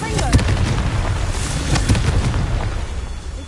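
A Confringo fire spell explodes in the Hogwarts Legacy video game as a dense, roaring blast with a couple of sharp bursts, loud and sustained across the whole moment, with some voice mixed in.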